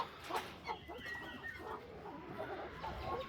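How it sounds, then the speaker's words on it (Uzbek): Pesochniy breed roosters clucking and calling in a poultry yard, a busy overlapping mix of fowl sounds with soft background noise, no clear talking. "Ana bu yerda ham pesochniy xo'rozlarimiz bor."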